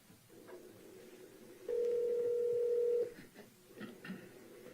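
A telephone rings once on a recorded 911 emergency call, a single steady electronic tone lasting over a second against a faint, muffled line hiss.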